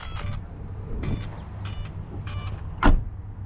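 A few short electronic motor whirs and beeps in sequence from a scale RC truck's speed controller starting up, followed by a sharp louder chirp, close by over a low hum.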